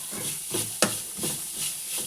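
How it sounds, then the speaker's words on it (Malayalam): Onions being stirred with masala and crushed ground paste in a pan for a Kerala anchovy stir-fry: soft scraping strokes recur about every half second over a steady light sizzle, with one sharper knock of the spoon. "എന്നിട്ട് ഇത് നല്ലോണം ഒന്ന് ഇളക്കട്ടെ"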